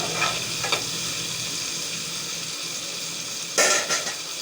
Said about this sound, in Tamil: அதனால் நல்லா தக்காளியை வதக்கிக்கோங்க